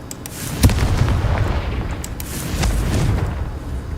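A Confringo explosive spell blast from Hogwarts Legacy goes off in loud booming bursts, with a sharp crack near the start and a rolling, rumbling roar that swells again toward the end.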